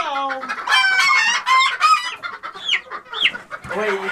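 Jersey Giant chickens cluck and squawk close by in a busy, overlapping chorus of short calls and rising squeals, with one brief crow-like call among them.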